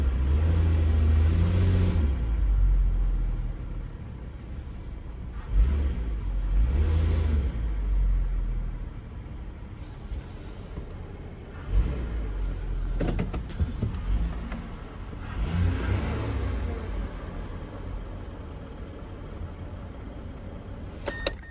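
A used car with a bigger engine runs at an auction preview, its low rumble swelling in several revs and easing back, with faint clicks and lot noise around it and no talk.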